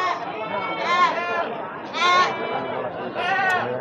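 Goats bleat at a livestock market, in three loud, wavering cries spaced about a second apart, with people chattering throughout.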